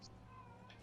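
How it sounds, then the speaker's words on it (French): A female cat in heat meows in a short, drawn-out wail with a steady tonal pitch, heard fairly close over a continuous low background hum. "si vous entendez la chatte miauler"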